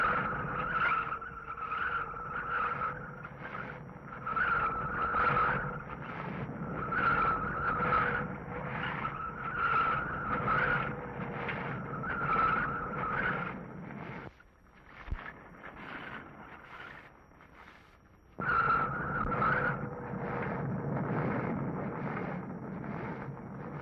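A car winds down a steep San Francisco block with eight hairpin turns on one of the world's most crooked streets. Its engine and tires hum steadily in a pulsing rhythm, briefly dropping away midway before returning, with no talk.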